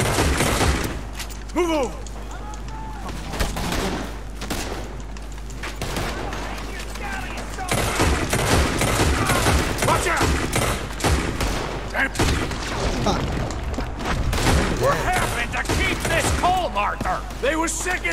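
Gunfire crackles almost nonstop in Red Dead Redemption 2, with rapid shots and booms layered over shouting voices and a steady low hum.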